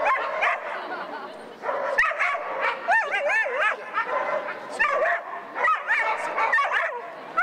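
Dogs at an animal festival in a town street in Boulogne yipping, whimpering and barking in short excited bursts, fairly close, with people talking around them.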